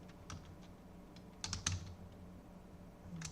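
Keystrokes on a computer keyboard during a coding session: scattered soft clicks, then a short quicker burst of louder taps near the middle and a few more at the end, close by over a faint steady room hum.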